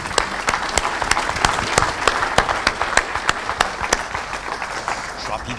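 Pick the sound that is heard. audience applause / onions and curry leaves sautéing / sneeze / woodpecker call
audience applause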